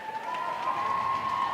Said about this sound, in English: The crowd will go wild here.